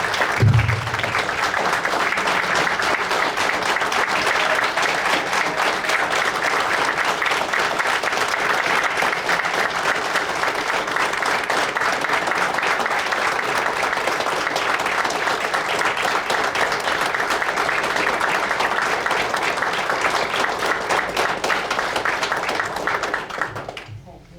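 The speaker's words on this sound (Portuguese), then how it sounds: "a gente faça uma salva de palmas a ela, por tudo que ela significou e vai continuar significando" Sustained applause from a meeting audience offering a tribute, a dense, steady clapping that carries on for about twenty-four seconds before tapering off at the very end.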